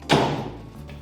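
A door on a 1971 Opel Manta A being restored in a workshop shuts with a single close, solid thud, followed by a brief metallic ring and a faint later tap.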